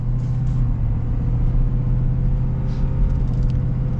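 A 2023 Ford F-450 dually pickup with the High Output Power Stroke diesel accelerates, heard as a steady, heavy low engine rumble from inside the cab, constant and droning without distinct rev peaks.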